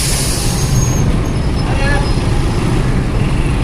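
Heavy road traffic at a ferry boarding queue, with a truck, buses and cars idling and creeping forward, a loud continuous low engine rumble with a faint air-brake hiss, under a voice talking over it.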